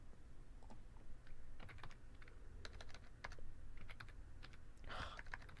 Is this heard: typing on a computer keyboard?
yes